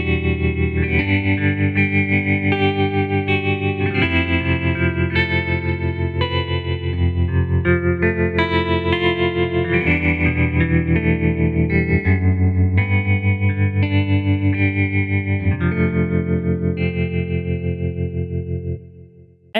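A Halion Sonic 3 two-coil clean tremolo guitar preset plays a steady chordal part with pulsing tremolo and chorus-like shimmer, sustained and loud throughout, fading only at the very end.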